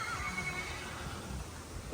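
A mare neighs, with a drawn-out whinny over steady outdoor background noise.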